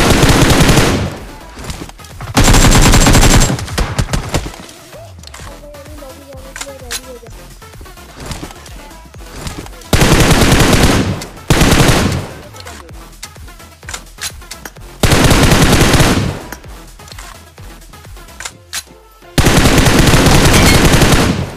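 Automatic gunfire rattles in bursts during a PUBG mobile match, loud sustained volleys separated by quieter stretches where someone talks over game sounds.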